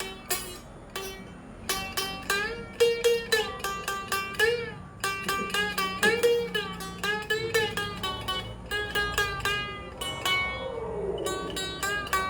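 A traditional Mongondow kecapi zither struck with a wooden or metal tapper, giving bright plucked-string notes in a lively, repeating melodic pattern, close and clear with no talking.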